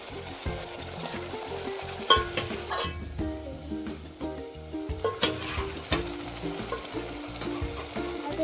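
Mutton frying and being stirred in a hot pan, a loud continuous sizzle broken by repeated scraping and clattering strokes of the spoon against the metal.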